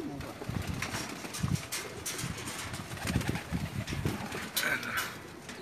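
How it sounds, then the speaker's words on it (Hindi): Pet pigeons cooing in a loft, repeated soft throaty coos at close range with a few brief higher calls and faint background murmur. "अभी हम आपको इनके कबूतरों का शौक़ करवाने जा रहे हैं"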